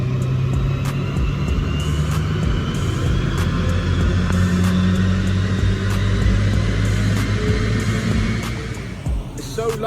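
An Audi S5 B9 with a Stage 1 remap runs hard on a dyno, its engine giving a loud, sustained roar with a rising drone that holds steady before easing off near the end.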